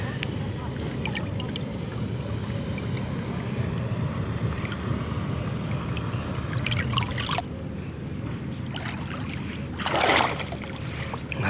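Fast-flowing river current rushes in a steady, broadband wash, close and fairly loud, with wind buffeting the microphone and a brief stronger splash near the end.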